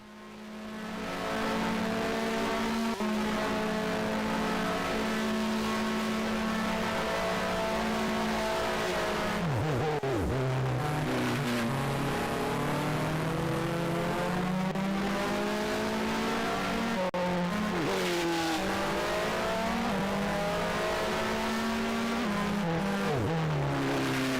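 A Grand Prix 2 race car screams through the 1989 Japanese Grand Prix, the steady high-revving engine dipping and climbing through gear changes in a continuous loud drone with no talk.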